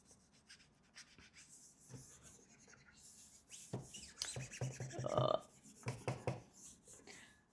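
A small eraser rubs across a whiteboard in quick scrubbing strokes, a dry rasping swish that repeats and grows louder toward the middle, close by with no talking.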